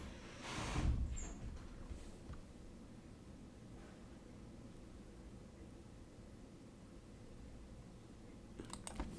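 Someone typing on a computer keyboard, with soft, quick clicks running steadily after a brief louder rustle at the start and a few sharper taps near the end.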